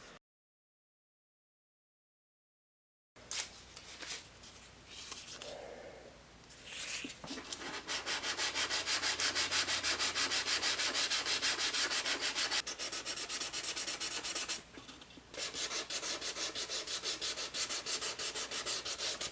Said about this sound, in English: There's Boo after everything's been sanded